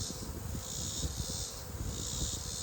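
Honeybees swarm around a hive being checked and reduced for winter, a dense, steady buzzing drone up close with a slight rise and fall in intensity and no voices over it.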